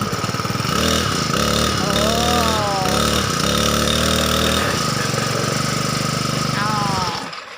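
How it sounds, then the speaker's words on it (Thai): A repaired brush cutter's small two-stroke engine runs and revs hard close by, its rough continuous roar rising and falling as the throttle opens and the blade spins, then cutting off abruptly at the end. "สตาร์ทปุ๊บแล้วใบมีดมันไม่หมุนนะคะ โอเคใช้ได้เร่งแล้วค่อยหมุน"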